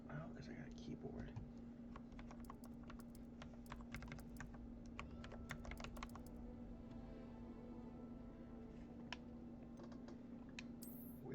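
Faint, rapid clicks of a computer keyboard being typed on, soft and close under a low steady hum, with quiet whispering mixed in.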